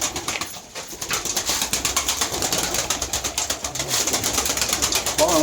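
Play pigeons in a loft in Mardin, cooing in soft repeated murmurs with occasional wing flutters. A close, busy flock, steady throughout with no talk over it.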